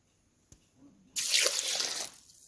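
Water poured into rice for grinding in an idli recipe, entering as a sudden steady splashing stream after a faint tap, running loud for about a second before easing off.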